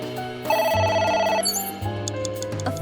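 A telephone rings in the video game AI: The Somnium Files, a steady electronic two-tone trill sounding twice in quick succession over a low droning musical background.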